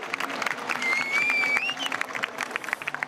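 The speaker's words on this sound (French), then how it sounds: "On l'applaudit s'il vous plaît." A crowd applauds at the Paris Game Week gaming expo, its clapping thinning out toward the end while a faint whistle-like tone runs through the middle of the burst.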